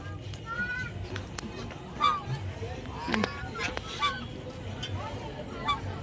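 Geese or ducks resting by a pond honk in a few short, scattered calls at moderate distance, with background chatter and low rumble.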